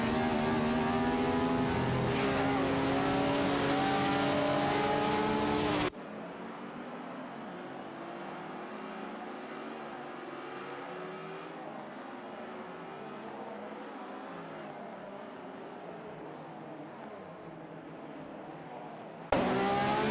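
Vintage racing cars in an AI-driven racing game, including Cooper T23s and a Maserati 250F, give a close, rising engine howl, then a long quieter stretch of more distant engine drone, before the loud engine sound suddenly returns.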